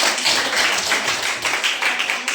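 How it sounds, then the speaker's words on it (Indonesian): A group of young people at a church youth meeting in Indonesia claps together, a dense, steady patter of applause lasting a couple of seconds, fairly close and alone. "Oke, tepuk tangan dulu."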